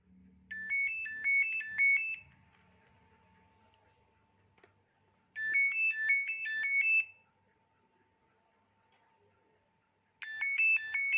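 A Nokia 6016i mobile phone alarm tone plays three times, each a short bright melodic burst, separated by quiet pauses with a faint hum.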